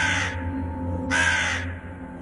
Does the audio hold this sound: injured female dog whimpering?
no